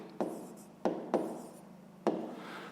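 Pen strokes scratch across paper during a 5th-grade math exercise, with four distinct scribbling bursts, each starting sharply and trailing off, quiet and close with no talk.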